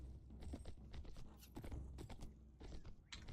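Horses in the Prophecy of Pendor game gallop in a battle, a busy patter of hoofbeats in uneven rhythm at moderate distance, fairly faint, with a scuffle of other noise and no clear talk.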